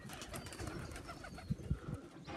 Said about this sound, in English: I'll let these old birds go on a bit longer